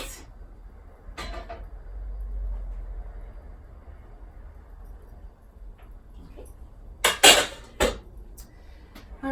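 A pot set down on the stove of an RV kitchen: a couple of sharp metallic clanks and scrapes near the end, close and fairly loud after a quiet stretch with a soft low rumble.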